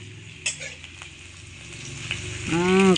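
Onions hitting hot mustard oil in a wok burst into a loud, spreading sizzle near the end, after a quieter stretch of faint kitchen clatter and a few light knocks.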